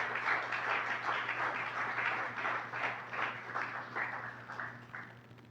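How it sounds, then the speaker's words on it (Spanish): A church congregation claps during a sermon, with dense, steady applause lasting about five seconds that swells and fades slightly, fairly loud and without talk. "Dele palmas al Rey."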